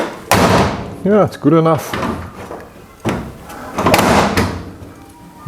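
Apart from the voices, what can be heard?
back door opening and closing on stiff hinges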